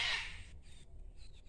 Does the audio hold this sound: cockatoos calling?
yes